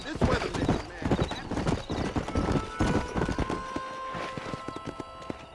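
Horse hooves clip-clopping at a quick pace in the Red Dead Redemption game, a continuous near rhythm with a brief whinny under game dialogue.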